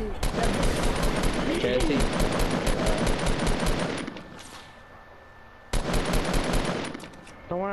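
Enemy gunfire in the Fortnite video game rattles out in loud, dense rapid bursts with a short lull, then another burst, while a player's voice talks over it.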